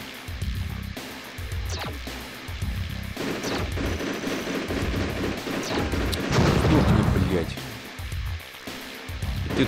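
Bursts of turret gunfire and rocket blasts from the PlayStation game Codename Tenka crackle and boom intermittently while someone talks excitedly over them.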